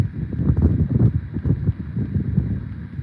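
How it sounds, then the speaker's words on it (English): Wind gusting steadily outdoors beside a campfire, a continuous low rushing roar with buffeting on the microphone, fairly loud and unbroken, with no voices. "that wind's picking up"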